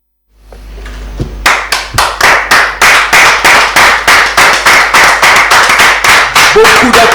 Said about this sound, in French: Beaucoup d'applaudissements pour vos fidélité